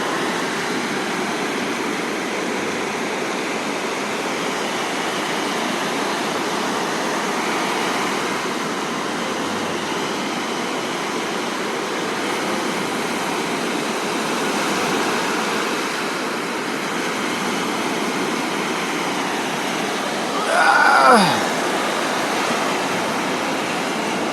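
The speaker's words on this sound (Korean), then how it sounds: "파도 구경 좀 합시다. 파도 소리도 좀 듣고." Waves break on Gwangalli beach in Busan, South Korea, in the rain. A steady, broad wash of surf and rainfall continues for the whole stretch, with a brief sharp sound near the end.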